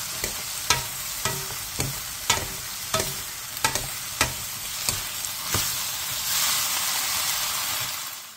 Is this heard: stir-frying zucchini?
yes